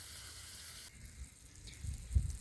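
Chicken liver pepper fry sizzles softly in a pan, a faint steady hiss with a few low stirring bumps near the end.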